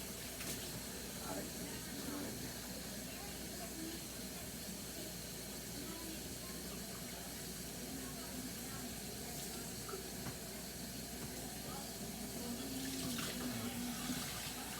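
Tap water runs steadily into a large cooking pot in a kitchen sink, a continuous hissing flow that builds slightly louder toward the end as the pot fills.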